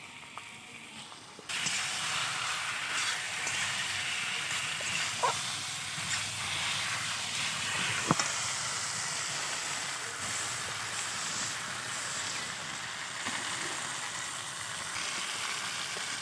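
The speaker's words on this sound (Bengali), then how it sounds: "আগে আদা রসুন পেঁয়াজ বাটাটা দিয়ে ভালো করে কষিয়ে নিতে হবে" Ginger, garlic and onion paste sautés in a pan for a drumstick and fish curry, a steady close hiss that starts abruptly and holds for the whole stretch, with a few faint clinks of stirring and no voices.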